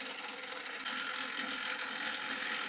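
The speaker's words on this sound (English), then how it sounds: "then we start the mixer for around 5 minutes" A stand mixer kneads ciabatta dough containing olive oil and honey, giving a constant mechanical whir with a faint rattling, ratchet-like texture and no one speaking.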